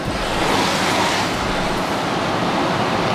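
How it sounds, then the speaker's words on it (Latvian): Twin waterfall in a busy park, a steady loud roar of falling water that fills the whole stretch without a break, with no voices over it. "dviņu ūdenskritums"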